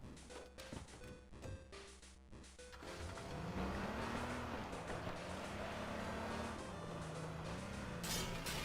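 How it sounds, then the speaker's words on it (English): In the video game H1Z1, a car engine revs and drives along steadily, its pitch rising and falling with gear changes under faint background noise. "getting a car early game is absolutely essential"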